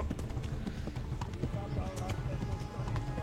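Horse hooves clip-clop in a steady galloping rhythm during a video game chase, moderately loud beneath a layer of game sound and an ongoing voice.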